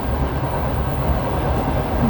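A passenger train on the Przemyśl to Lviv route rumbles steadily from inside the carriage as it approaches Lviv, a constant low, dense roll with no speech.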